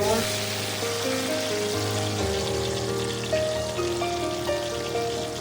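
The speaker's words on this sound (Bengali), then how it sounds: "তেল গরম হয়ে গেছে, এখন সবজিগুলো ভেজে নেব।" Vegetables fry in hot mustard oil with a constant dense crackling sizzle, accompanied by a steady tonal hum in the background.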